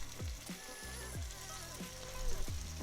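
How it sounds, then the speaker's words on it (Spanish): Churro dough is piped into hot oil, and the overheated oil sizzles and bubbles loudly and steadily, with short descending pops and crackles recurring every half second or so close up. "ya puse a calentar mi aceite. Y ahora vamos a agregar el churro."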